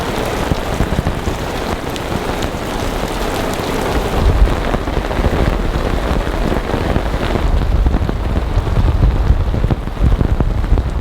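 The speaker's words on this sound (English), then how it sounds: "This was a knockdown thunderstorm" Heavy rain from a thunderstorm pours down steadily and loudly on a tent, a dense continuous roar with occasional low rumbles underneath.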